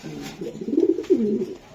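A silver racing pigeon gives one soft, rolling coo close by, a low throaty phrase lasting just over a second.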